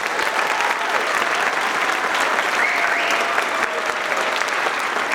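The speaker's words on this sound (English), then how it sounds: "can everybody give him one more round of applause, please?" Steady applause from a pageant audience at the Mr. East Valley 2023 event, filling the whole stretch loudly and evenly with no breaks.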